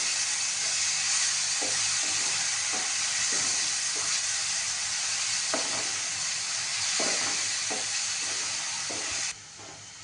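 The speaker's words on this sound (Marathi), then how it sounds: "आता त्यामध्ये आपण हे वाटलेला ओला मसाला, मिरची, आलं, लसूण आणि कोथिंबीर हा मसाला पण छान परतून घ्यायचा." Ground wet masala of green chilli, ginger, garlic and coriander sautéing in hot oil for Shegaon kachori filling; a loud, steady hissing sizzle with periodic soft stirring scrapes, close and without talk, cutting off near the end.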